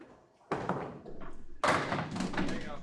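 Candlepin bowling ball strikes clatter in two sharp bursts, the second louder as pins scatter and rattle, with a busy alley murmur underneath.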